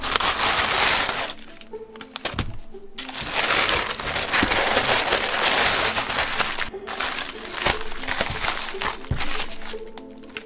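A delivered parcel is torn open nearby, with long bursts of loud crinkling, crushing packaging and paper broken by brief pauses and occasional sharper cracks.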